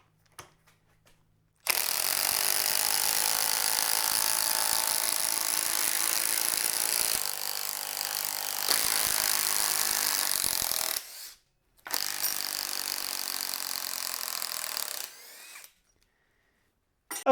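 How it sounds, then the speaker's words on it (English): A cordless impact wrench hammers a 3/8 by 6 inch lag bolt into a stack of OSB, loud continuous rattling bursts with a short pause midway and a brief stop near the end. "We'll start out by driving a 3/8 inch by 6 inch lag into the OSB stack."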